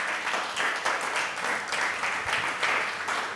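A church congregation applauds after a Bible reading on the genealogy of Jesus, a sustained, even patter of many hands clapping together in a roomy hall, with no talking.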